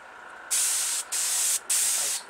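A Testors Aztek airbrush sprays acrylic paint in three close, steady hissing bursts separated by short pauses.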